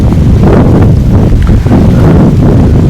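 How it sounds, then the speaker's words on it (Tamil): Strong wind buffets the microphone at Mount Faber peak in Singapore, a loud, constant roaring rumble with no let-up. "செம்மையாக காற்றடிக்குது."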